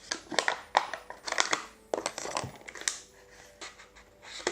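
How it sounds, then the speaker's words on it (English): The top of a fish, sausage and cheese package is cut off up close, making irregular bursts of crinkling and crunching snips with short pauses between them and no talking. "I think I might just cut the top off"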